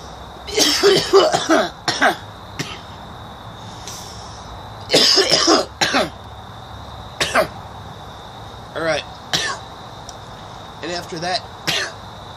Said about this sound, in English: coughing my brains out